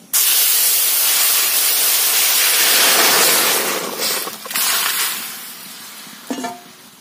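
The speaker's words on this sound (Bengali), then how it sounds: "এর মধ্যে আমি এবার ঝোলটা ঢেলে দিচ্ছি" Snail curry broth poured into hot panch phoron tempering, an immediate loud hissing steam burst that holds for several seconds then fades into a softer bubbling sizzle with a brief clink near the end.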